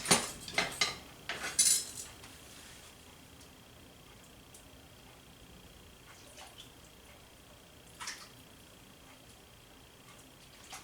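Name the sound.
ladle and spoon clinking in a bowl of soup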